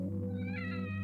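A cat meows once in a drawn-out, rising call within an anime scene, heard clearly over a steady low background hum.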